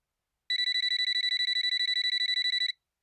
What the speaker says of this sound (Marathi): बघ ग कोणाचा फोन आहे.